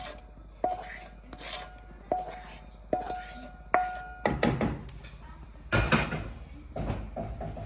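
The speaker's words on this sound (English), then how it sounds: "Add the whole lot to the pan, juices as well" Par-cooked chicken and prawns go into a pan with their juices for a chicken and prawn laksa. Repeated metallic clanks and knocks of a spoon and pan sound close by, followed by heavier scraping and tipping noises.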